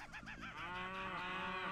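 A cow in Worms Armageddon lets out a single drawn-out moo that rises in waves and then holds steady, clear and fairly close.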